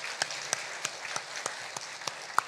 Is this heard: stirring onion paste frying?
no